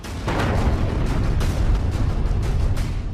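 A heavy, continuous rumbling roar with several sharp bursts, like a distant explosion and its booming aftermath, loud and dense throughout; an Israeli strike in Lebanon.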